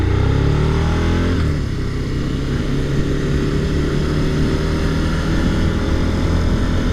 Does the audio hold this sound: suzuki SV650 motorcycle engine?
yes